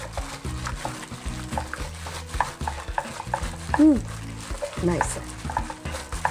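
Red pepper sauce is stirred into a bubbling Korean spicy pork gochujang stew, with repeated scraping and sloshing strokes in the pot over a faint sizzle. Brief speech breaks in.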